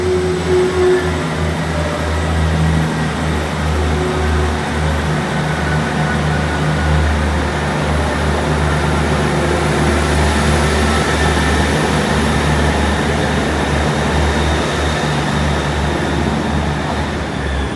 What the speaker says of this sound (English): The 1143 East Midlands Railway service from Norwich to Liverpool Limestree, runway 773 leading the train